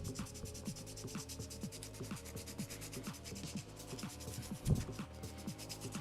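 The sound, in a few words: sanding a pencil tip with sandpaper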